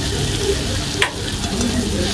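Ginger paste sautés in hot oil in a pan while preparing a Bombay duck fish dish, a close, steady sizzle with a sharp scrape of stirring midway.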